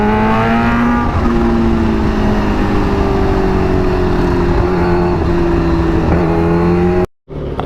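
A Kawasaki H2R motorcycle engine holds a loud, steady high rev with a slowly shifting pitch for about seven seconds, then cuts off abruptly.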